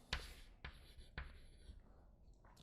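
Chalk or marker strokes writing an equation by hand on a board during a lesson on filters, three sharp taps and scratchy strokes heard alone and fairly faint, with quiet room tone between.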